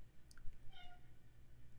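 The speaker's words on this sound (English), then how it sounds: "Get my cat out of here." A house cat meows once, faint and brief, in a quiet room behind low background hum, with no talking.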